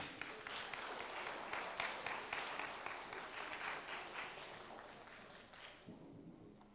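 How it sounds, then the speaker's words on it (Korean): Church audience clapping again, a sustained even round of applause that carries on for several seconds before tapering near the end, somewhat faint and roomy. "한 번 더 박수하십시다."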